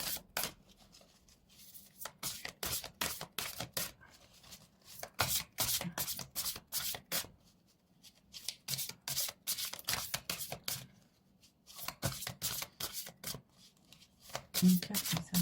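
Oracle cards shuffled and drawn in a rapid run of crisp riffling bursts, near and fairly loud, with brief pauses between handfuls.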